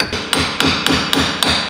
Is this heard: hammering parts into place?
yes